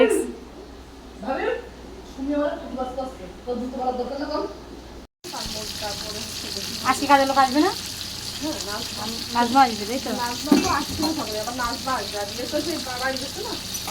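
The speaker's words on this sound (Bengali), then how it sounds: "ইয়ে ইলিশ মাছ ভাজা হতে বলতেছে" Hilsa fish frying in a pan gives a steady sizzle that runs under almost continuous talk from several people nearby.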